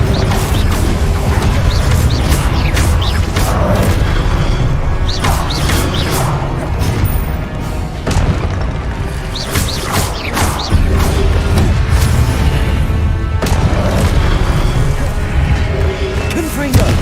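Confringo blasting spells explode in Hogwarts Legacy amid dense, loud combat noise, with repeated thuds, crashes and booms layered over one another and a voice calling out spells.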